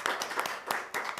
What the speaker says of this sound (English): I think we should give Jess and Alistair a round of applause